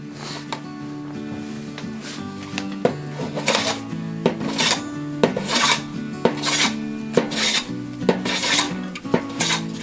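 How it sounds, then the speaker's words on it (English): A Stanley hand plane squares the edges of a 2x6 board, a series of close, rasping strokes in a steady rhythm, each a short scraping swipe followed by a brief pause. "And take our Stanley plane. We're gonna square up our edges a little bit."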